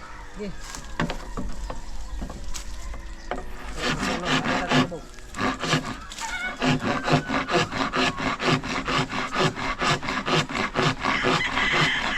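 Bamboo being sawn or worked by hand to build a chick coop outdoors; steady rhythmic rasping saw strokes speed up into a fast regular back-and-forth, close and fairly loud, with a few voices faintly in the background.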